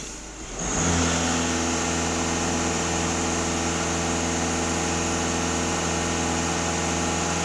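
A VW Touran's engine runs at steadily held raised revs, a loud, even mechanical drone with a strong constant hum that swells briefly at the start and then stays unchanged, close by and with no voices.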